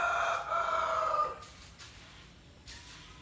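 A rooster crows once, loud and close, its drawn-out call fading after about a second, followed by faint brief clucks from nearby fowl.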